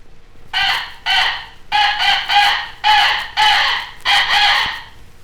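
A rooster crows loudly and close by, six times in a row, each call rising and then trailing off, with no voices over it.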